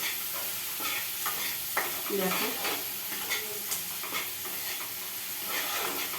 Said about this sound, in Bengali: এই যে পেঁয়াজ ভেজে নিলাম